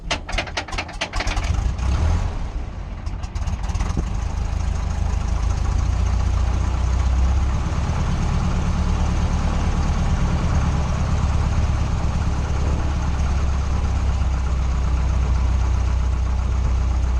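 A historic Piper L4 Cub aircraft engine warming up after starting: a few seconds of clattering catch and sputter, then a loud, steady, close droning idle that runs on without a break.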